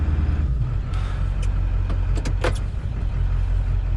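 A limousine drives along Fayette Station Road in West Virginia's New River Gorge, with a steady low engine rumble and road noise throughout and a few brief higher-pitched squeaks or clicks in the middle.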